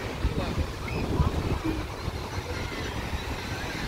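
Surf at Yarada beach in Vizag rolls in as a broad, continuous roar with wind buffeting the microphone, while a voice talks over it.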